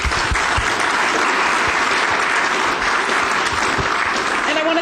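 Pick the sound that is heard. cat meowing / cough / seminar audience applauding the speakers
seminar audience applauding the speakers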